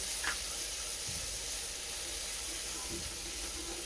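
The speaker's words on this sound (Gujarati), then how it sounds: "લસણ, મરચાં અને અદરક, એને આપણે સોતરી લેશું." A paste of green garlic, chili and ginger sautés in a pan with a constant soft hiss and sizzle, plus a couple of faint stirring knocks and no voices.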